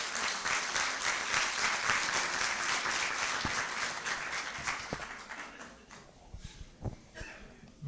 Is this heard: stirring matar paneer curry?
no